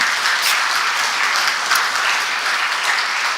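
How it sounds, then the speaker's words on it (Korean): A church congregation applauds the choir during a Sunday revival service, a steady, dense wash of many hands clapping together that holds evenly throughout without pause. "더 크게 박수 한번 해요"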